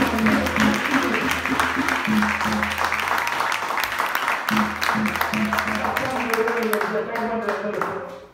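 Church congregation applauding to acclaim the Lord, dense continuous clapping mixed with voices and a low musical tone, loud throughout before fading at the end.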